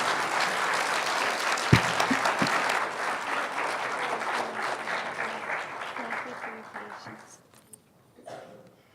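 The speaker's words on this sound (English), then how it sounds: "Let's give them one more round of applause" An indoor audience at a health and nutrition presentation claps in a sustained, dense round of applause that tapers off toward the end, with brief voices near the close.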